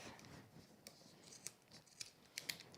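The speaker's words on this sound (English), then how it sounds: "But you want to just trim down your zip" Scissors cut a fabric zip down to length in a quiet sewing room, several short crisp snips coming in an irregular burst near the microphone.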